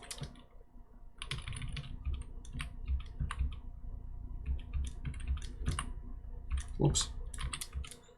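Someone types on a wireless computer keyboard during a Pokémon Crystal game, with bursts of sharp, close key clicks that pause and resume in an uneven rhythm, and a brief spoken word partway through.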